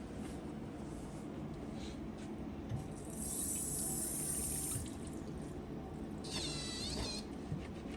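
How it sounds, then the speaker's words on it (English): Hands washed under a running tap at a sink during a nursing skills check: steady, close water flow and splashing lasting throughout, with a brief higher squeal of the faucet midway and again near the end, no talk. "I'm going to go ahead and begin washing my hands to prevent any infectious diseases or bacteria to spread from"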